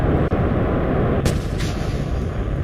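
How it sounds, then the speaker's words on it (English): Rocket boosters separating during staging in Kerbal Space Program, a sharp thump of separation over a steady engine rumble, followed by a thin high whine. "we're about ready to stage out the boosters"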